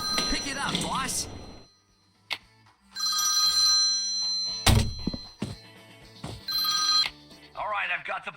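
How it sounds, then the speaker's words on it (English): Telephone ringing in the spy-themed puzzle video game Fixer Undercover, repeated electronic ring bursts separated by pauses, with talk and a thunk in between. "Oh, the phone is ringing."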